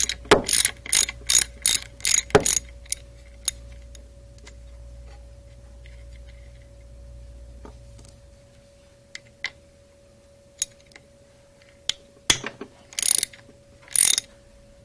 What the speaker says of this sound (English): Remove the 5/16" socket head cap screws holding the cam gear to the camshaft,